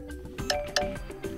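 A short chiming notification tone plays on a Nokia G10 phone, a few bright, quick pinging notes over soft background music, faint and close.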